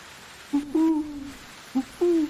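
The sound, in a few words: owl hooting in video game Medieval Dynasty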